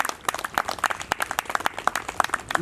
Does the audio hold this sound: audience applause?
yes